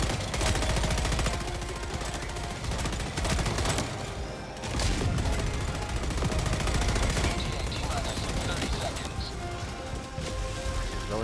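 Dense, continuous gunfire from the co-op shooter Helldivers 2, rapid bursts and automatic fire layered with crashing impacts throughout, loud and close, with players talking over the battle.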